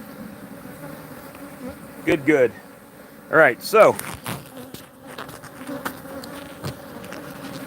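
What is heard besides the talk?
forager honey bees flying back to the hive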